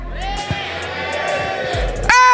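A crowd at an esports watch party for the M6 RRQ vs SRG match cheers for SRG in a cheer battle, a loud sustained roar of shouts and whoops that swells sharply at the end.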